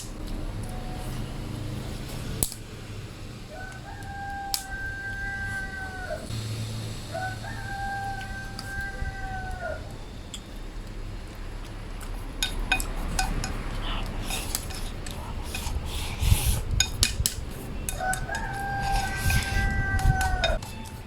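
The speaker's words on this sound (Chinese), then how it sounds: "我家的大公鸡啊，老是叫。" A large rooster in rural Xiangxi, China crows three times, long drawn-out calls spaced several seconds apart, with clinks and rustling nearby in between.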